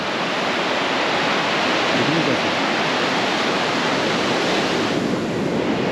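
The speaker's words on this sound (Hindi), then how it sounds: "आओ मिलजुल कर के इन लहरों का स्वागत करें, उनको नमन करें। ये है हमारा अथाह समुद्र" Ocean waves rolling onto Gopalpur beach at sunset, a loud continuous roar of surf with some wind buffeting the microphone.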